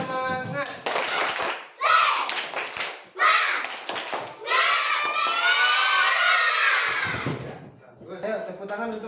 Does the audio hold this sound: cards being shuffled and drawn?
no